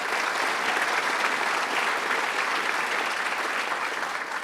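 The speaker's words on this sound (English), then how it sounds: "Let's give the chairman a round of applause." Sustained audience applause for a chairman at a casino selection site event in Bethel, steady and dense throughout without a break.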